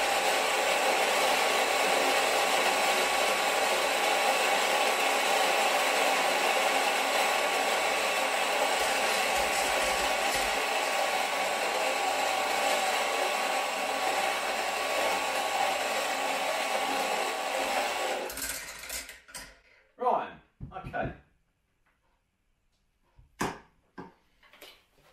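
A coffee grinder grinds CAFFIN8 coffee beans with a loud, steady whirring roar for about eighteen seconds, then winds down, followed by a few sharp knocks and clatters as the grounds are handled.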